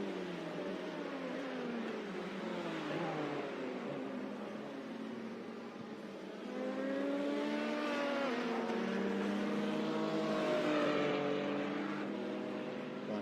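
An LMP prototype race car at Daytona 24 practice, engine note rising and sweeping in pitch as it passes on the left, loud and continuous over roughly thirteen seconds with no talk.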